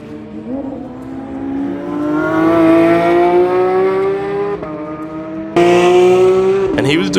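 A Porsche GT3 RS race car drives on a track in Vegas, its engine climbing steadily in pitch under load, dropping briefly, then surging loud again with a gear change near the end.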